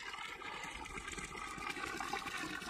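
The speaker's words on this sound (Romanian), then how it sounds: "cu un izvor de apă curată, apă vie, izvorul Vuliceni" Spring of clean water flowing near a monastery in Bucovina, a steady, soft rushing trickle close by with no talk.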